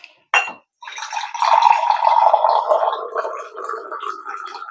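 A second glass of water being poured into a pot of dal cooking with raw mango, a short splash followed by a longer gurgling pour that runs for several seconds, close and clear.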